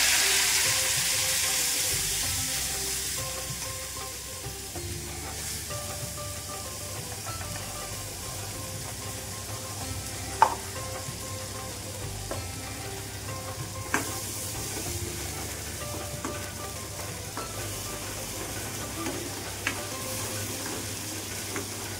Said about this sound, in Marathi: हे वाटण पूर्ण तेल सुटेपर्यंत परतून घ्यायचं आहे